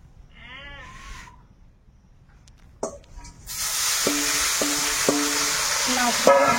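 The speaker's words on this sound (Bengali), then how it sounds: "কড়াইতে এখন তেল দিয়ে দেবো।" Oil sizzles in a kadai (wok) for a Bengali home-cooked meal, a steady hiss rising from about halfway through and continuing close by, with a voice heard briefly over it.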